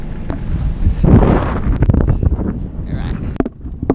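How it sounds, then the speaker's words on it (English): Wind buffets a microphone aboard a sailboat heading out of harbour toward France, a loud rushing roar with water and boat noise underneath while a person talks over it. "going out into that wind"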